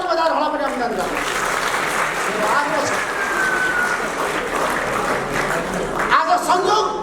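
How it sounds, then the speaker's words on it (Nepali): An audience at a Nepali journalism award ceremony claps in sustained, dense applause that fills the whole stretch, with voices mixed in and a brief swell near the end. "तपाईँहरू सबैले ताली बजाएर होला पनि अभिनन्दन गर्नुहोस्"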